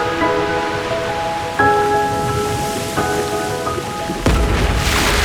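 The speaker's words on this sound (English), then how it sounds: "Hear the thunderous roar of Niagara Falls." Niagara Falls sends up a steady, loud broadband roar of falling water, continuous throughout with sustained musical tones layered over it and a surge in intensity near the end.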